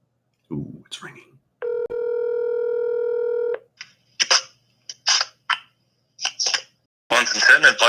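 A telephone rings on an outgoing call, a single steady electronic ring tone lasting about two seconds between bursts of close talk and clicks.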